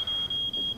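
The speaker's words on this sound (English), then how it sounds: "That's the alarm down the shop." A shop alarm gives a loud, steady high electronic tone, broken by very brief gaps about every quarter second, with no voices.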